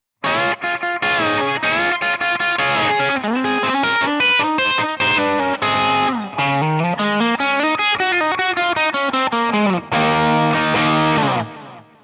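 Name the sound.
electric guitar lead tone with tape delay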